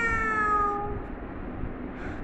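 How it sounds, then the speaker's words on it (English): A cat lets out one drawn-out meow, near and distinct, trailing off into quiet background hiss, with no voices. "A cat makes a meow sound."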